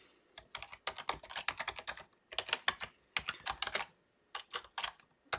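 Quick, uneven bursts of keystrokes on a computer keyboard while a plot command is entered for a differential equations lecture, close and crisp, with short pauses between runs of typing and no talking.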